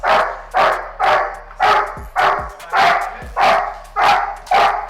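Young Doberman Pinscher barking in training, eight loud close barks in a steady, evenly spaced rhythm with frustration building.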